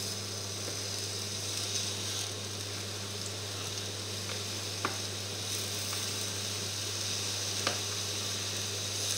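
Apples browning in a hot pan, a steady soft sizzle with occasional faint pops and scraping clicks, low and continuous with no talking.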